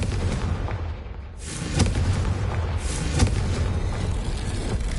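Booming fire-spell blasts from the Hogwarts Legacy video game, a dense roar of repeated explosive bursts swelling and fading over several seconds with no talk.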